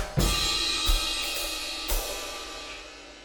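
Drum kit playing a short setup fill, two quick eighth-note strokes leading into an accented ensemble hit, with cymbals ringing out and decaying over the rest; no voices.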